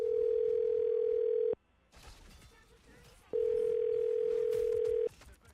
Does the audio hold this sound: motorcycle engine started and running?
no